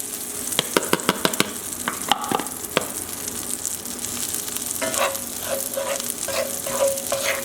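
Garlic fries in a pan over a medium flame for garlic breadcrumbs. A few sharp utensil clicks and scrapes of stirring come first, then a steady close sizzle settles in, with no talking.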